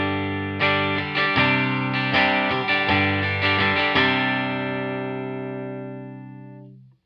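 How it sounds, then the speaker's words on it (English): Clean electric guitar notes from a relic-style Telecaster on the neck pickup, volume and tone all the way up, strummed in a quick series, ringing out warm and full before fading into a long sustain. "Now I'm going to go neck pickup, volume, tone all the way up, and clean."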